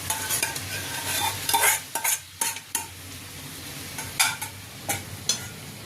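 Boiled dal is stirred into a sizzling tomato and spice mixture for Bengali dal tadka, with a spoon scraping and knocking against the pan in uneven strokes over a soft, continuous fry.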